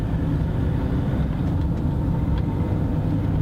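A car engine pulls steadily under light throttle while driving in sixth gear, a low, even drone with road rumble that holds constant and close throughout.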